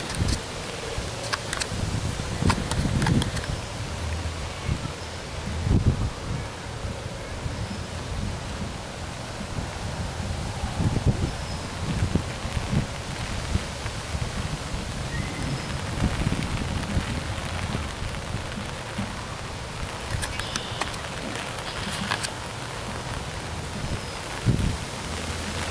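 Steady rain pours down during a windy thunderstorm, mixed with gusting wind buffeting the microphone and umbrella, forming a continuous dense wash of noise with brief louder surges throughout.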